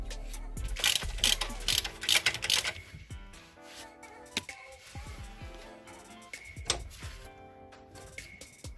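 A ratchet tightening shock absorber and suspension bolts on a Peugeot 208: close, crisp clicking bursts in quick runs, then scattered mechanical clicks and clanks of tools at a modest level.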